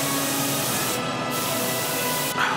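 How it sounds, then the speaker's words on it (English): An airbrush lightly sprays paint from a distance onto a Panther tank scale model, making a steady, even hiss that runs unbroken for the whole stretch with no talking. "We just want the tiniest little spray from far off."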